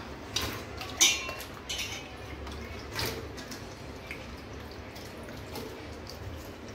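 Vegetables for a big batch of pav bhaji are rinsed in clean water before going into a pressure cooker, giving faint splashes, drips and a few metallic clatters of a vessel, close and quiet.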